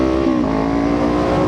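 A Kawasaki Ninja 500 motorcycle engine holds a loud, steady high rev near 8,000 RPM, its exhaust note droning continuously with a rough, crackling edge throughout and no voices.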